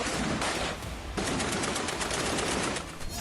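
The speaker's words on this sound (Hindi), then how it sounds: "अस्पताल के अंदर गोलियां बरस रही थी।" Automatic gunfire during an attack on Al-Shifa hospital in Gaza crackles in dense, continuous bursts, loud and unbroken for about three seconds with no voices.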